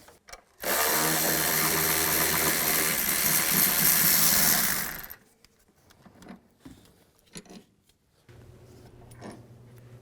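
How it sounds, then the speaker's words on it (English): An 18mm socket on a power tool drives out the transmission mount bolts on a 2011-2019 Dodge Grand Caravan: one loud, steady whirring burst of about four seconds, then quieter scattered clicks and clatter. "I'm going to take an 18mm socket and take these two bolts out on top of the mount."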